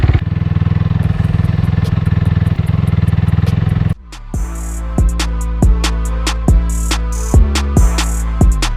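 A 2016 Honda CRF250R dirt bike engine runs loud and close, first as a steady idle and then with a series of sharp throttle blips revving up and dropping back, no talking.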